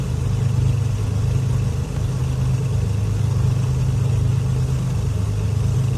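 Beechcraft Baron B58 twin engines in FSX running at a steady, loud, close drone with a low rumbling hum and no voices, continuous throughout.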